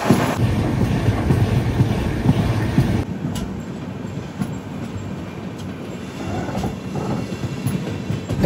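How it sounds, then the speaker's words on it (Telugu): Visakhapatnam to Tirupati AC double decker express train running, with a steady low rumble of rail and wheel noise that fills the clip and eases slightly after the first few seconds. "మన ట్రైన్ అయితే రాజమండ్రి నుంచి స్టార్ట్ అయిపోయింది అనమాట."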